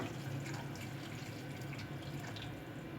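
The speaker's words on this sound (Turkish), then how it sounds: "Bir miktar da kaynamış suyum var. Kaynamış suyumu da ekliyorum." Boiled water poured from a kettle into a pot of olive-oil stuffed vine leaves, a steady close splashing and trickling stream running unbroken the whole time, with no talk.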